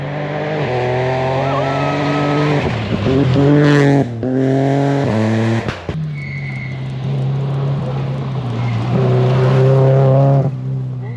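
A rally car races loudly past on a stage of the Istanbul Rally, its engine a strong, close roar that rises and falls through gear changes, with a brief dip midway before revving hard again.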